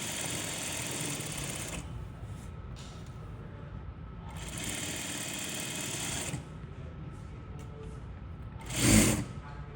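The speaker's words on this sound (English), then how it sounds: "So now I'm gonna stitch it at 1/4 of an inch again." A sewing machine stitches a French seam at a quarter inch in two steady whirring runs separated by a quieter stretch, close up, with a brief sharp noise near the end.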